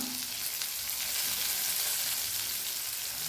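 Sliced onion and curry leaves hissing in hot oil in a pan while cooking a yam curry, a steady, dense sizzle that runs without pause, close and moderately loud, with no talk.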